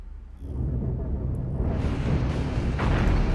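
A flak cannon fires in the space game Cosmoteer: a dense, rumbling barrage of low booms that builds and stays loud throughout.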